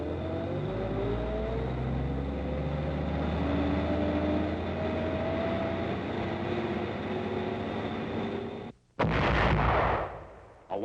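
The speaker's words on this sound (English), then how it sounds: "A 155 self-propelled gun is fired point blank at an observation post inside Frenz, Germany, northeast of Eschweiler." A 155 mm self-propelled gun in 1945 wartime combat fires point blank at an observation post in Frenz, Germany; a long low rumble of engines and vehicles gives way to one loud, sharp blast near the end.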